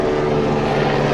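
Steady drone of a helicopter or light aircraft flying over a rice field in rural Bali, a continuous engine hum with strong low tones, fairly loud and constant, with no speech.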